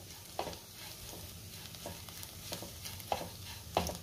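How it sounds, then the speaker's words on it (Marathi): Garlic chutney with crushed peanuts is stirred in a pan over a low gas flame, a soft, faint sizzle punctuated by several scraping stir strokes spaced about a second apart. "शेंगदाण्याचं कूट घातल्यावर साधारण 1 मिनिटभर मी परतून घेतलेलं आहे"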